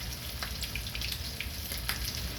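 Breaded chicken legs frying in oil in a pan, a steady close sizzle with small scattered pops throughout, no talking.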